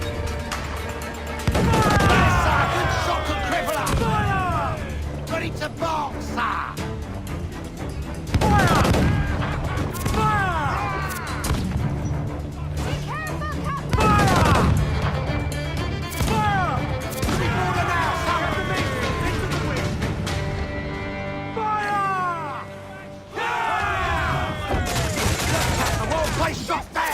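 Ship cannons firing broadsides in Assassin's Creed Black Flag, repeated heavy booming volleys every few seconds amid crashing impacts and shouted crew voices.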